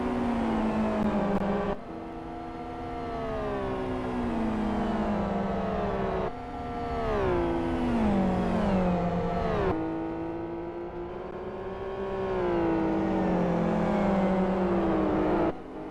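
Race cars in a SuperGT sim racing game at Blackwood howl through repeated upshifts, each engine note climbing in pitch then dropping at the shift, loud and sustained with a short lift near the end.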